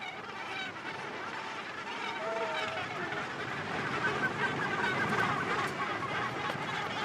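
Dense Cape gannet colony on Bird Island off southern Africa, a continuous loud chorus of overlapping harsh calls and honks from many birds, near and far, with no pauses.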